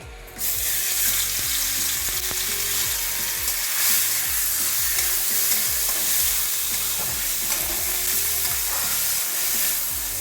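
Soaked, drained Gobindobhog rice fries in oil with a little ghee, giving a steady, close sizzle throughout, with repeated scraping stirs of a spatula against the pan at a regular rhythm and no talking.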